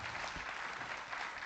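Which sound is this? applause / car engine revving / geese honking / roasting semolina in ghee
applause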